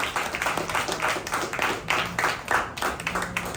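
Audience applause at a Tamil pattimanram debate event, a steady patter of clapping from a crowd that pulses in waves, moderately loud and close.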